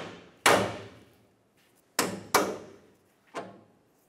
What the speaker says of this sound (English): you can just give this a couple bonks with your hammer to attempt to break it free